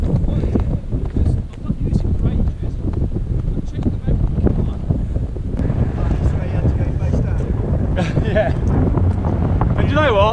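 Loud, steady wind buffets the microphone with a low rumbling roar throughout on a fell walk in the Lake District, while a voice speaks partway through.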